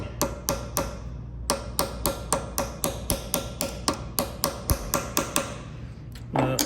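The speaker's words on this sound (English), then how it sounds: "I do have these nice little Japanese style hammers that are very nice for light tapping" Small Japanese-style hammer giving light, evenly spaced metallic taps, about twenty crisp strikes in a steady rhythm, close and alone, while working on a 1998 Ferrari 355 F1 throwout bearing assembly.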